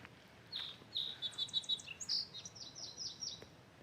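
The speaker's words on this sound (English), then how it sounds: "Beautiful bird song" Birds sing and chirp in quick bright phrases at a creek-side campsite in Green Creek Canyon, Hoover Wilderness, Eastern Sierra, after rain; the calls are fairly soft and close-ish, layered over a quiet background with no talking.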